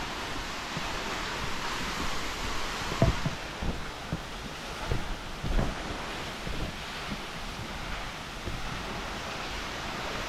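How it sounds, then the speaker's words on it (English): Distant waterfall at Rawson Falls, New South Wales, a constant broad rushing roar with occasional bumps and footsteps as someone walks closer, no voices heard. "You see the waterfall in the distance there."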